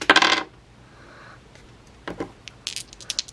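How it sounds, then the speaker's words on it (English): Two dice are rolled, giving a sharp burst of clattering against a hard surface, a quiet pause, then several lighter scattered clicks and taps as they tumble and settle. "So let's roll 2 dice."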